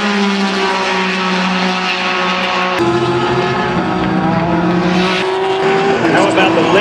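Race cars at speed during the Rolex 24 endurance race at night, with Brumos, Penske and Ganassi cars running. Loud sustained engine drone with shifting pitch as cars pass, under a commentator's talk.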